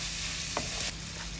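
Shrimp and onion frying in a pan for a red amaranth greens dish, a steady close sizzle with a brief stir or clink partway through, no talking.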